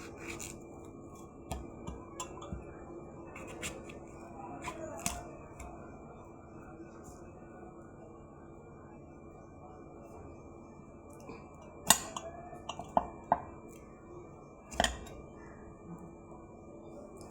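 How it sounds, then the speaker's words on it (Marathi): A knife cuts unpeeled raw mango into large pieces, giving sporadic soft scraping and tapping chops on a board, with a few sharper, louder cuts later on. No voices. "थोडेसे असे मोठे साईजचे कापून घ्यायचे आहेत आपल्याला."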